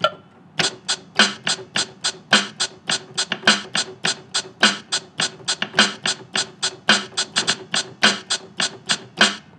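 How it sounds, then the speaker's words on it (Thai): Built-in drum and percussion sounds from a Pastel PL50 keyboard, a rapid rhythmic pattern of sharp, bright hits with a steady beat and occasional low thumps, close and clear with no voices. "แบบนี้เป็นเสียงกลองนะครับ"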